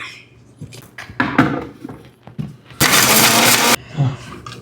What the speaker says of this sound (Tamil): அப்படியே மிக்சி ஜாரில் இது போட்டுடலாம் நல்ல ஒரு கோர்ஸ் தானே சொல்லுவாங்க ஒரு பவுடராக அரைச்சி எடுத்துக்கணும்